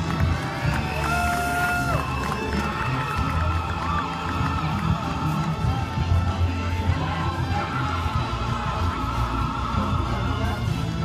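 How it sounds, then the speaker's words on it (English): Outdoor crowd at the Penguin Plunge into icy Hampton Ponds in Westfield cheers and shouts continuously, with whoops and high calls rising over a constant murmur of many voices. "Give her a big round of applause."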